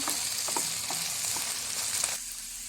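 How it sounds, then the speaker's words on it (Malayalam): Okra and onions sauté with a little salt in a pan, making a steady close sizzle broken by soft scraping stirs, with no talking. "ഇതെല്ലാം കൂടി ഒന്ന് വഴറ്റിയെടുക്കാം."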